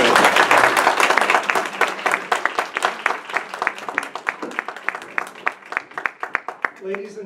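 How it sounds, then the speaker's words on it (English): Audience applause at a candidates forum, dense clapping from a room full of people that thins into scattered individual claps toward the end. "can we have a special warm hand of applause for Mr. Braun"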